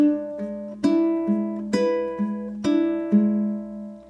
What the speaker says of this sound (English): This one we're going to be plucking double stops